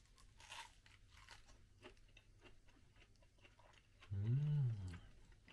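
Crunchy durian flesh, crisp outside and soft inside, bitten and chewed once in a short loud burst after a quiet stretch with faint background sounds.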